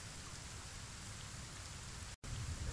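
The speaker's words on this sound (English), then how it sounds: "does it sound like it's raining to you?" Steady hiss of falling rain in the video game Skyforge, even and continuous, broken by one brief moment of silence near the end.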